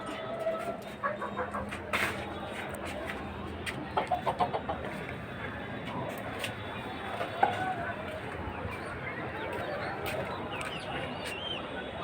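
Large crossbred Brahma chickens cluck and call in a rooftop poultry farm, scattered clucks and a short burst of calls rising over a faint, steady background hum, with no clear talk.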